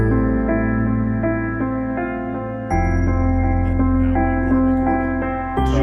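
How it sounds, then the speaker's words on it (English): A song track plays loud and continuous in audio editing software, a full music mix with sustained chords and a bass line, with no talking. "So I have my musical number in there"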